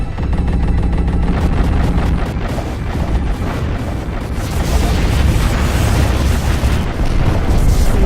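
Continuous loud weapons fire and explosions fill a space combat battle in the Freespace Blue: War in Heaven video game, a dense unbroken barrage of shots and booms with no pauses.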